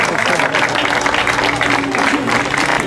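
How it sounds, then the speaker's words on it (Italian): Loud, close audience applause of encouragement at an outdoor downhill speed race awards ceremony in Zagarise, clapping mixed with crowd murmur and a low hum. "Un applauso di incoraggiamento"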